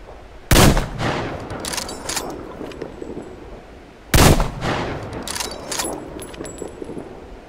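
Two loud gunshots in the Metro Exodus video game, fired about three and a half seconds apart at a beast, each a sharp crack followed by ringing tails and metallic clinks.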